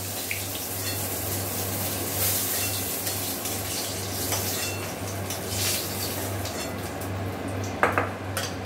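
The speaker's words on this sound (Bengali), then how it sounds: "এবার দিদি পটলগুলো একটা বাটিতে তুলে নিচ্ছে।" Fried pointed gourd pieces being moved into a bowl, with soft utensil scrapes and light clinks against dishware over a steady low kitchen hum, close and fairly quiet.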